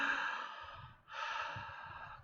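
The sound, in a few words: breathing in through the mouth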